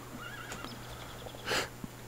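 A horse neighs in the Minecraft Technic Pack video game, a short rising-and-falling whinny followed by a brief snort, quiet and heard alone without talk.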